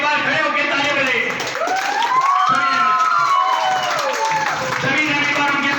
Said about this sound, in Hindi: उनके लिए एक बार खड़े होकर ताली बजाइए।